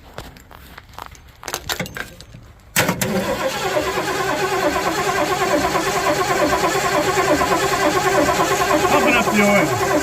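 A 1978 Ford F250 engine is cranked over to build oil pressure: a few quiet clicks and rustles, then an abrupt, loud, steady mechanical churning that carries on close by without a break.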